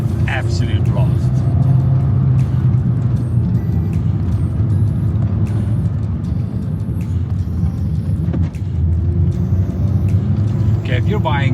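A Suzuki Swift Sport hot hatch engine drones steadily from inside the cabin while driving, a continuous low rumble with road noise, as someone talks over it.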